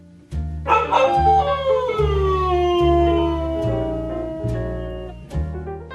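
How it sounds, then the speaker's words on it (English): A Siberian Husky howls at a doggy day care, a loud, close, sustained wavering howl broken into several long drawn-out notes with brief yips between them, heard alone with no talk. "he was still howling and stuff"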